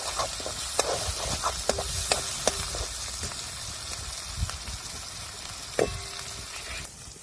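Spice masala sautéing in hot oil for a mixed vegetable dish, a steady low sizzle with occasional sharp clicks of a spoon against the pan, close and fairly quiet.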